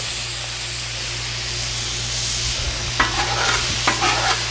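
Burgers sear on a Blackstone griddle with a constant close hiss and sizzle, and a couple of short scraping bursts near the end.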